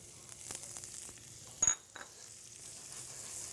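A bunch of butter melts in a pan with a faint, soft sizzle, a brief clink of a utensil against the pan partway through, quiet and close with no talking.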